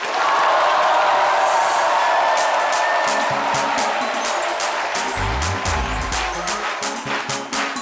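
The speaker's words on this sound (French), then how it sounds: "bienvenue en direct avec toujours les applaudissements chaleureux de notre public" Warm applause and cheering from a live studio audience of a French TV show, a loud continuous roar of clapping throughout, with a voice speaking faintly over it toward the end.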